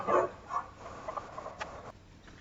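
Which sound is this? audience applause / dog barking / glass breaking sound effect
dog barking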